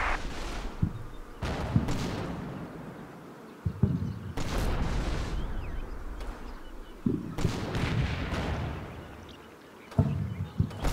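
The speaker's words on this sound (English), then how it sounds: "That Jeep just fucking Michael Bays through all those explosions." Heavy explosions in the war video game Combat Mission: Battle for Normandy boom out in bursts every few seconds, with crackling debris and a rumbling battle din filling the gaps between blasts.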